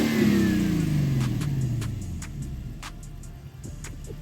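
An Infiniti M45 engine with an aftermarket intake revs and then settles, recorded under the engine bay, the pitch sweeping downward in a loud, close rumble with a few sharp ticks scattered throughout.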